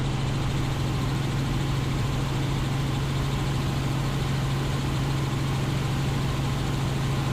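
A small airplane engine runs steadily while taxiing to runway 30 at Wenatchee, a continuous loud drone with a strong low hum and no break, no voices over it.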